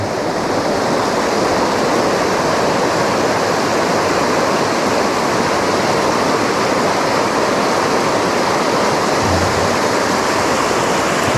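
Steady rushing stream water flows without pause, a dense broadband roar close to the microphone, with no voices present.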